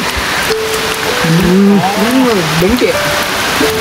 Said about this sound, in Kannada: ನೇಚರಲ್ಲಿ ಮಳೆ ಬರ್ತಾ ಇದೆ